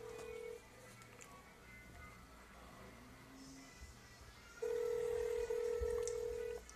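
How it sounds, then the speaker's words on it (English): A telephone sounds in a quiet room: a short tone, then a steady, fairly loud electronic tone holding for about two seconds before cutting off, over faint background hiss. "That's a phone, baby."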